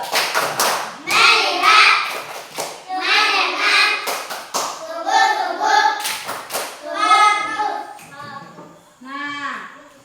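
Schoolchildren in a classroom perform the "tepuk fokus" clapping routine, sharp rhythmic bursts of hand claps alternating with loud chanted voices, close and lively.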